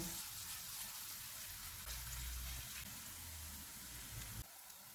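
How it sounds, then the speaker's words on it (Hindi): Paratha batter sizzles in a hot, ghee-greased frying pan over a medium-low flame, a steady hiss that stays even and close throughout, with a faint low rumble and no voices. "पैन गरम हो गया है, इसमें बैटर डालेंगे और फैला लेंगे।"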